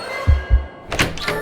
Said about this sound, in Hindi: जैसे ही वो दरवाजे को खोलती है